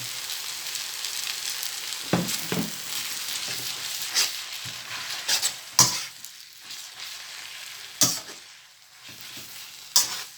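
Pad Thai with fresh shrimp, tofu and sweet soy sauce is stir-fried in a pan, a steady sizzling hiss punctuated by repeated spatula scrapes and clacks.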